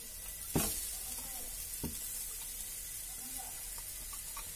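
Grated coconut frying in ghee in a hot pan, giving a steady close hiss and sizzle with a couple of sharp spoon clacks against the pan.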